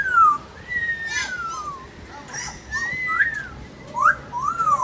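A green African parrot in a zoo park whistles a series of clear rising and falling notes, close and fairly loud, with a few short calls and a voice talking softly in between.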